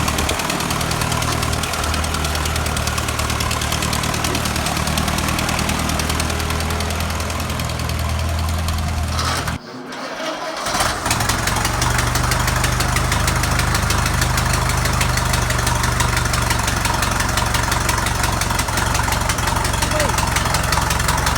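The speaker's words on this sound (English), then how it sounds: "the tractor's just been started up in petrol" An old Nuffield tractor engine idles on petrol with a steady, knocking chug close by, briefly cutting out midway before rumbling on just as loudly.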